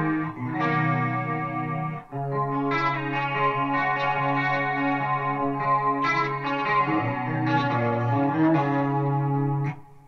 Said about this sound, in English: I'm just going to add a pitch detune, kind of that classic Eventide style pitch detune